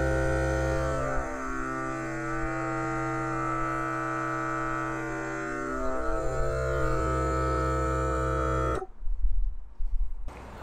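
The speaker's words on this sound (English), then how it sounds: "So we got the compressor, we got the tires, and we're gonna inflate this up to" An air compressor inflates tires to 35 PSI with a steady, loud electric motor drone that holds for several seconds and then cuts off, leaving a few faint clicks and rattles.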